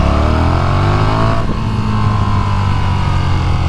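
A KTM 1290 Super Duke motorcycle accelerates hard in second gear from about 4,000 rpm. A loud, close engine roar rises steadily in pitch, then drops briefly at a gear change and climbs again, with no talking.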